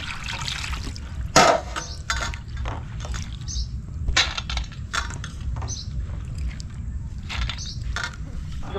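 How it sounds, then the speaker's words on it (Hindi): Peeled split lentils being rinsed in clean water by hand, with soft intermittent splashes and sloshing in a bowl, close and fairly quiet. "इसको साफ पानी से धो लेते हैं"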